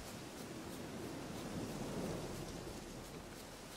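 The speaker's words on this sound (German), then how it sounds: "Sieht nach Regen aus." Steady rain hisses with a low thunder rumble swelling in the middle in The Witcher 3, a continuous wash of noise with no voices.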